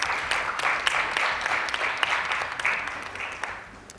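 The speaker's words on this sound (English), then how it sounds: "let's give our two presenters a round of applause" An audience at a youth day debate gives the two presenters a round of applause: a dense, even patter of many hands that gradually tapers off toward the end.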